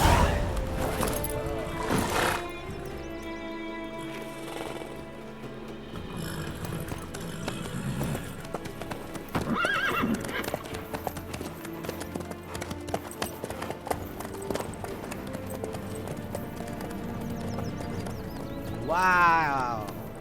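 Horse hooves clip-clopping in The Witcher 3, with a horse neigh near the end, rhythmic footfalls heard under conversation and game music.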